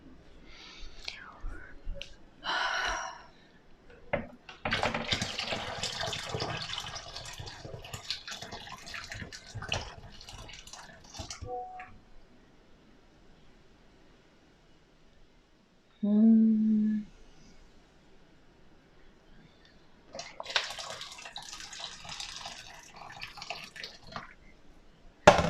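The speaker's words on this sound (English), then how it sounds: "the last step would be to add hot water in here" Hot water runs into a Bosch 800 Series dishwasher that shows error code E22, heard as several close bursts of rushing, splashing flow separated by quiet gaps, with whispered talk and a short low hum between them.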